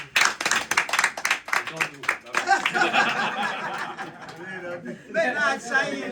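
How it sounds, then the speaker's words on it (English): Audience clapping at a community gathering, a burst of dense hand claps that swells and mixes with chuckles and chatter, with voices talking over it. "I just want you people to help me give her clapping ovation."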